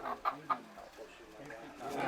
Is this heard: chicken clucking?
yes